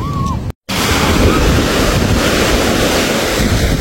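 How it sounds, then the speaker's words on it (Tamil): Sea waves wash onto a beach in Mullaitivu in a continuous, loud rush of surf, with heavy wind buffeting the microphone and a brief cut in the sound near the start. "கடல் அலை சூப்பராக இருக்குது"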